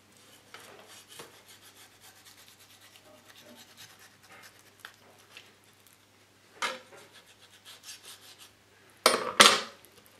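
Sharp knife slicing around the thigh joint of a rabbit carcass being jointed, giving soft, quiet rubbing and scraping strokes throughout, with two louder rasping cuts near the end.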